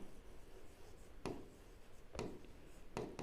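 Hand writing on paper during a maths lesson: faint, soft scratching with three distinct quick pen strokes spaced about a second apart, quiet and close, with no talking.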